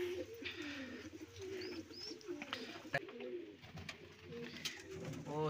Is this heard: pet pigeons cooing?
yes